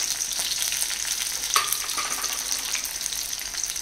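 Garlic frying in a pan for a veg fish curry, a steady bright sizzle with a few louder spits partway through, close up and without voices.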